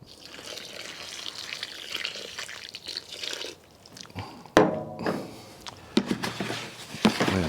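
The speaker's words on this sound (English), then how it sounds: "And then I'm going to add some water right now to moisten the soil." Water poured into a perlite and vermiculite soil mix for plant cuttings, a soft trickling wash that thins out, then a few louder splashy pours and gurgles near the end, close and alone.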